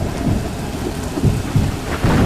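Heavy rain pours steadily while rolling thunder rumbles in repeated low bursts, a dense stormy wash with no voices.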